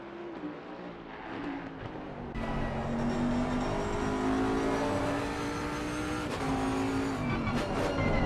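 A Bentley GT3 race car in the Assetto Corsa Competizione racing game revs hard, its engine note climbing and shifting as it accelerates through gears, loud and continuous from start to finish.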